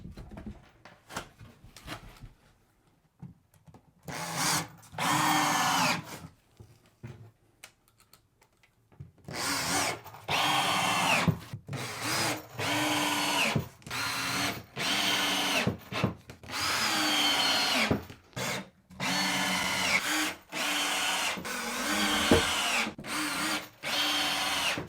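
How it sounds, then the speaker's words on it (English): A power drill drives screws through plywood boards onto floor joists as a shower tray base, repeated loud whirring bursts with short pauses between screws. "let's get this screwed down first"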